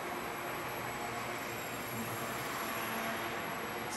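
Small remote-controlled paper airplane on a 2-cell 450 mAh battery, flying at half throttle outdoors, gives a steady, even broadband whir and hiss with a faint high motor whine, continuous and without talk.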